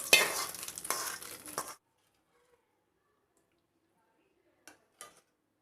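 A hot tempering of mustard seeds, dried red chillies and curry leaves hits a cucumber kichadi in a sharp, loud sizzling burst lasting under two seconds. Near silence follows, then two faint clinks.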